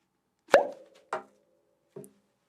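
A sharp pop from a pop gun rings out, followed by two softer, fainter pops spaced about half a second apart.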